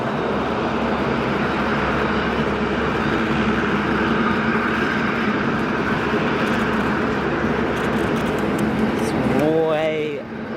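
An airliner takes off at Sydney Airport, its engines a loud, steady, broadband roar lasting throughout, with people talking under it near the end.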